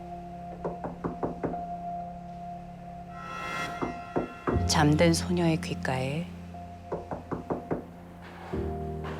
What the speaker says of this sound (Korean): 누군가 문을 두드리는 소리가 들렸어요.